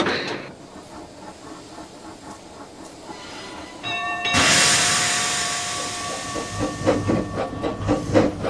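A steam engine lets out a loud, sustained hiss of escaping steam, with metallic tones and rhythmic clanking underneath.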